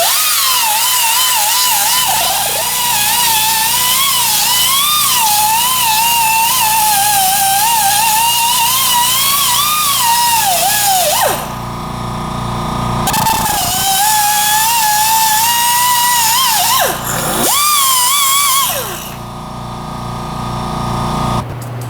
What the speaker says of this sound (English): I'm going to use a grinder